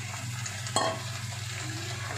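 Vegetables being stirred in a pan for a mixed labra curry, a soft continuous sizzle with one sharper scrape of the spatula near the start, fairly quiet and without speech.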